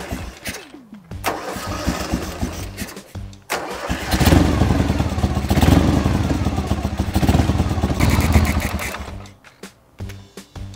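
Ural Volk boxer-twin motorcycle with Chinese carburetors and fresh spark plugs cranking, then catching and running roughly at a fluctuating idle for several seconds before sputtering down, close up with no talk.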